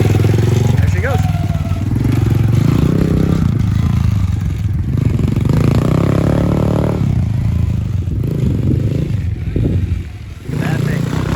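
A Honda CT90 motorcycle fitted with an aftermarket 125cc engine runs close by, its engine note rising and falling with revs amid rattling and scraping, while people talk over it.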